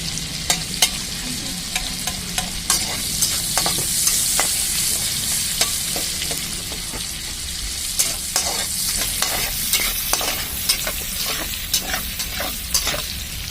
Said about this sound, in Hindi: अभी देखिए मैं इसमें प्याज डालती हूँ